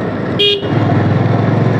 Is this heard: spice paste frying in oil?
no